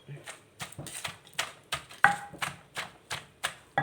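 Boiled bamboo shoot salad is pounded in a mortar with a pestle in a steady series of about a dozen sharp, close thuds, one after another, with light clatter between strikes.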